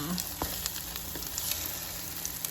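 French toast stuffed with Fireball whiskey sizzles quietly in a pan right after being flipped, a steady soft fry with small crackles and pops throughout.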